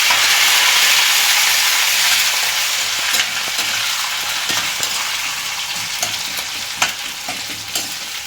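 Tempering spices for upma fry in very hot oil in a pan, giving a loud, continuous sizzle and hiss close by, broken by sharp clicks and scrapes as a spoon stirs them.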